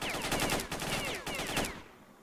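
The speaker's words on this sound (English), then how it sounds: "It sparked just crazed gunfire everywhere." Rapid bursts of automatic gunfire in STALKER: Shadow of Chernobyl rattle in quick succession, loud and close, then cut off abruptly into quiet.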